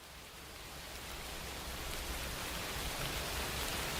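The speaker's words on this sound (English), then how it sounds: "Let me find some rain ambiance." Steady rain ambience selected as background for a VA-11 HALL-A play session, a continuous broadband hiss of falling rain that swells slightly at the start and then holds evenly, with no voices or thunder.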